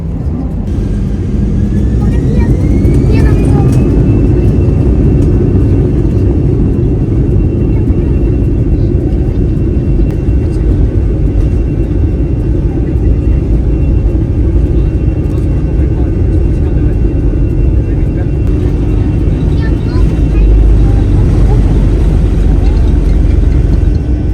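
Air India Express airplane rolling onto the runway at Srinagar airport in thick fog, a loud steady engine roar and rumble heard from inside the cabin, with a rising whine early on and people talking.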